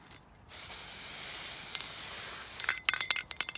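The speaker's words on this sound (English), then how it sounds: "So this is the stock marker, which I'm gonna give her a spray with" Stock marker paint sprays out of a can onto a lamb on a sheep farm in a steady close hiss lasting about two seconds, followed by a few light clinking and rattling sounds.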